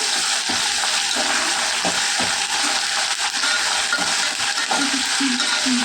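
A handful of tender curry leaves fries in a pan for spinach dal, giving a loud steady hiss with occasional crackles and stirring scrapes, and no voice is heard.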